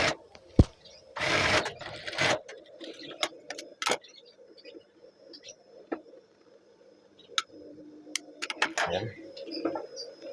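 A sewing machine stitches the sleeve placket and cuff of a Dishub PDH uniform shirt in short bursts and clicks, with pigeons cooing faintly in the background and a person speaking intermittently.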